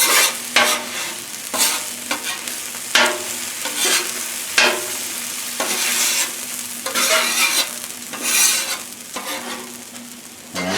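Mushrooms and trinity stirred together and frying on a Blackstone griddle, with steady sizzling and repeated scraping stirs of a spatula on the flat-top, close and continuous with no talking.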